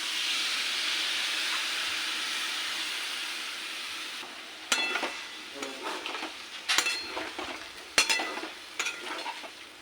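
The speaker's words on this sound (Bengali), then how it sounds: "থালাটা দিয়ে জলটা দিয়ে দিচ্ছি।" Water added to a pan of fried pumpkin and potato with leftover oil: a steady, even sizzle for several seconds, then louder sputtering bursts and crackles as the liquid hits the hot oil, close and unaccompanied by talk.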